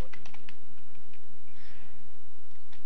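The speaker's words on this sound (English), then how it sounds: "I'm only rolling because I'm typing." Typing on a computer keyboard during an online racing game, a quick scatter of light key clicks at close range over a low steady engine drone, with no speech.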